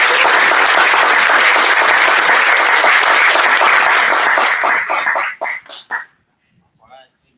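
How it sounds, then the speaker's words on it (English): Big round of audience applause at a startup demo night, steady and loud before breaking into a few last claps and fading into near silence. "Big round of applause."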